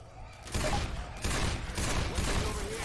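Loud, dense gunfire in the Left 4 Dead 2 zombie shooter, sustained overlapping bursts rolling on in waves for the whole stretch, with no clear talk.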